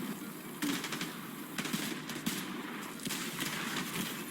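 Automatic gunfire in The Division 2 during the Jupiter manhunt mission, repeated rapid bursts over a dense game soundscape, loud and close, with no talking.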